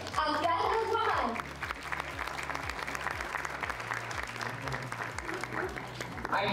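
Applause from a business-community audience welcoming a speaker, steady and fairly loud clapping running under rhythmic background music throughout.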